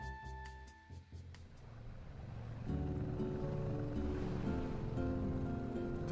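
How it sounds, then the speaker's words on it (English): A ferry rolls on sea waves in a visual novel: a steady wash of water and a low engine rumble under faint music that grows fuller and louder midway through. "I leaned over the railings and saw the ship's propellers making white foam waves below us"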